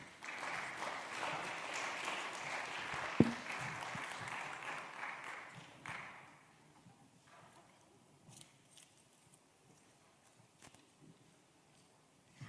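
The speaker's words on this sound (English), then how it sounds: "Please give them a round of applause." Conference audience applause at an education event, a dense wash of clapping for about six seconds that fades to scattered claps and a quiet room.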